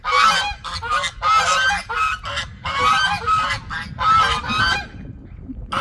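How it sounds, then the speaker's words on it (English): A flock of geese on a farmyard honks noisily in several close, repeated bursts, loud overlapping calls with brief pauses and no talk. "And the geese are being obnoxious."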